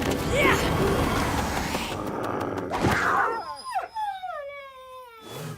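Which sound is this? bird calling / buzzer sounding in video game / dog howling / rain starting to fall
dog howling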